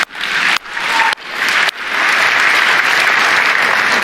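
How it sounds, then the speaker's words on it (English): Audience at a Microsoft Build keynote bursting into applause, short loud clapping bursts that restart a few times before settling into sustained, dense clapping from a large crowd. "Yeah, you can clap."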